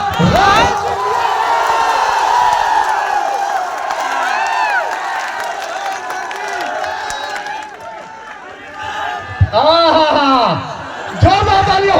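An audience at a motivational meet-up in Mahoba cheers, whoops and applauds as a speaker is welcomed on stage, with crowd noise swelling in loud bursts and voices shouting over it.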